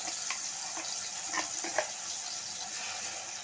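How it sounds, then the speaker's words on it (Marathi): Ground masala paste with reddened garlic and a pinch of asafoetida sizzling in hot oil for a Konkani pomfret fish curry, a steady soft hiss with a few faint scrapes and stirs, close and without voices. "लसूण लालसर झाली की यामध्ये आपण हे वाटलेलं वाटण घालायचं आहे"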